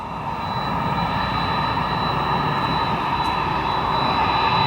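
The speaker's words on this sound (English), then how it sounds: "Let's listen to these CF6 engines, pretty loud on this FedEx 767" A FedEx Boeing 767 with CF6 engines taxis nearby, giving a loud, continuous jet roar with a steady whine that holds throughout. No one speaks.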